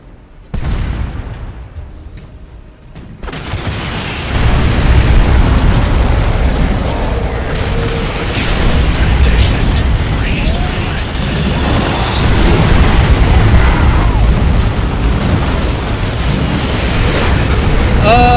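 Explosions ring out as a turret is destroyed in the strategy game Dawn of War II, a loud, sustained rumble of blasts and bursts that swells after a brief quieter opening and stays dense to the end.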